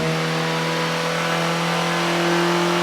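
A Honda Civic hatchback's transversely mounted four-cylinder engine runs hard on a dyno. It makes a loud, continuous, buzzing drone that holds steady throughout, with no talking.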